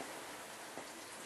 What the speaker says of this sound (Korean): 비가 오니까 습해서,